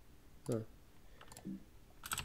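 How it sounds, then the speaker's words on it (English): A few separate bursts of key presses on a PS2/AT keyboard, clicky and close, with quiet gaps between them. "I can press all bunch of keys and it works"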